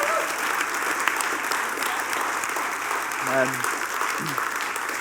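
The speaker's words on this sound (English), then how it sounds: "can we just give them a round of applause?" An audience gives a team a round of applause after they share their mission experience, with sustained, even clapping and a brief voice rising over it near the end.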